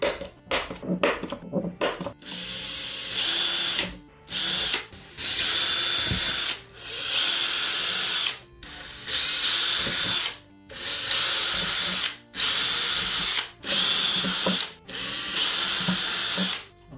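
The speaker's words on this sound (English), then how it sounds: "We are going to cut our holes in all the corners." A power drill cuts holes into the corners of a plastic Nintendo NES console case, loud and close, running in repeated harsh bursts of about a second each, separated by brief pauses.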